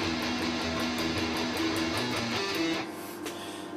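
Electric guitar plays a riff, a dense, driving distorted pattern heard continuously and moderately loud before it drops off near the end.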